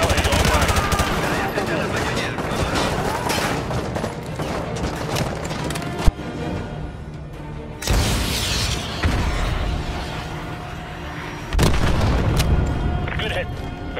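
Missile strike explosions and gunfire from the Call of Duty Modern Warfare 2 campaign, a winter sniper mission: loud, dense blasts and booms with sharp bursts around the middle and near the end, mixed with battle noise and voices.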